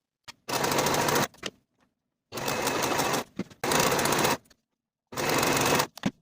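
A sewing machine finishes blouse shoulder seams in four separate rapid bursts of stitching, each about a second long and separated by silence, with a few faint clicks between runs, close and clear.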